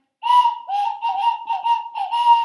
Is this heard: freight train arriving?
no